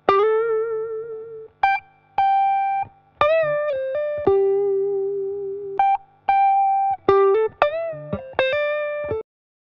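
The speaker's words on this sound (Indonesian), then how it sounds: "ini adalah suara gitarnya" A kencrung (cuk), a small Indonesian strummed instrument, plays a lo-fi track part: clean, bright plucked single notes, some sustained and some quick, with gaps of silence between phrases and a light effects sheen.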